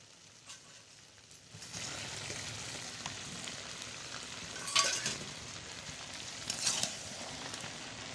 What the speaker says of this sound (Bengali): ঢাকনা খুলে ভেজে রাখা আলুগুলো দিয়ে দেবো